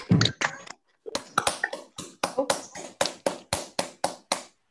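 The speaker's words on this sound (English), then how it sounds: "Join together in some applause." Online audience applause comes through a video call as a string of separate hand claps in a loose, steady rhythm. The claps are fairly faint, with a brief pause near the start.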